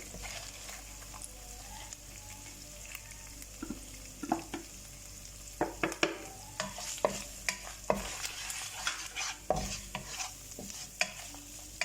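Spices fry with onions in a pot for arvi salan as a spoon stirs steadily, giving a continuous soft sizzle broken by frequent scraping clicks and knocks against the pan, close and moderately quiet.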